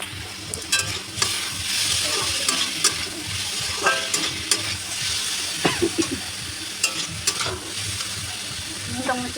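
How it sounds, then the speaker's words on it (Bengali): Chunks of elephant foot yam (ol) fry in a pan with a continuous sizzle, broken by repeated close scrapes and knocks of stirring at an irregular rhythm. "দেখুন আমার ওলাটা হয়ে গেছে ভাজা।"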